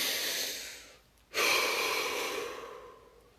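One deep breath during a guided relaxation session: a long, close breathy inhale, a brief pause, then a sharp start into a long, slow exhale that gradually fades.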